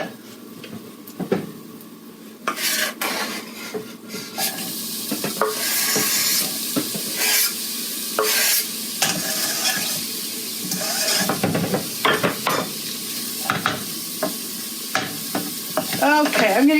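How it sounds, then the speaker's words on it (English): Onions sizzle steadily in hot oil in a pan while being stirred, with scraping utensil strokes and light crackling running throughout at close range, no talking. "So it's sizzling, but it's not sizzling and popping too much."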